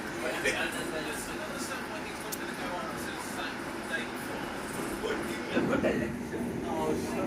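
London Underground Metropolitan line train running toward Aldgate, a steady low rumble and hiss from inside the carriage, moderate and constant, with faint voices in the background.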